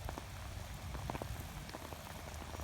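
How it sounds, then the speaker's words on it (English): Light rain falling on a summer afternoon over farm fields and pasture after a thunderstorm, a faint, soft patter of scattered drops with a low steady hiss underneath. "Rain's still coming down lightly."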